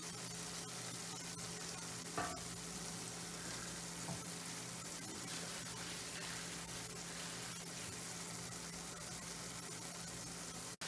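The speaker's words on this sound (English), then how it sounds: "So now the sugar and the coconut is all caramelizing, and now it's getting to a point where it's sticking" Sugar and grated coconut caramelize in a pot for a Jamaican grater cake, giving a faint, steady sizzle and crackle with occasional soft stirring scrapes and no talking.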